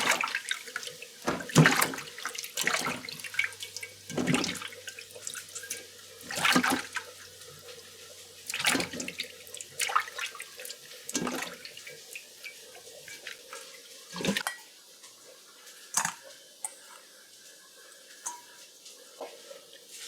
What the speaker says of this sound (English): So we're gonna add a bit of vinegar here to wash our fish.